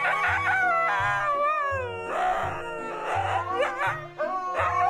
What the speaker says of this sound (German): Huskies.